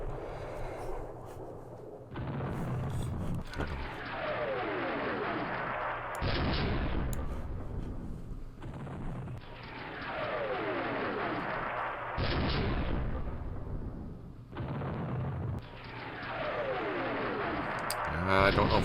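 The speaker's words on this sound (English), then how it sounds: "Artillery, do your thing." Artillery fire in a Vietnam War strategy game: repeated heavy booming barrages roll in across the clip, each burst sustained and dense with overlapping blasts, loud and close.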